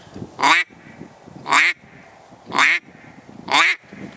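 A hand-blown duck call imitates a duck's quack in four evenly spaced, loud, close notes about a second apart, each a short raspy burst falling in pitch, with no voices.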